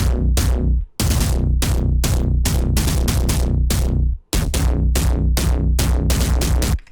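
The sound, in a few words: synth kick drum pattern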